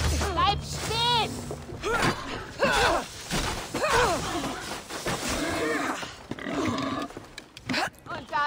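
Pig squeals and grunts from Assassin's Creed Odyssey sound in repeated high, wavering bursts across the stretch, mixed with game effects and talking, fairly loud and close.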